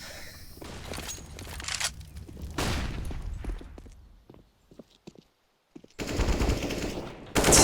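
Counter-Strike wallbang gunfire on the Inferno map: two loud rapid bursts, a scatter of lighter single shots, then a heavy sustained burst near the end.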